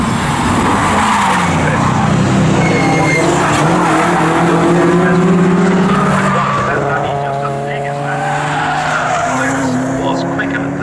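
BMW and Jaguar saloon race cars lap the Snetterton circuit, their engines roaring loud and sustained with rising and falling pitch as they shift gears and pass one another, tyres squealing at times and a commentator talking over the cars.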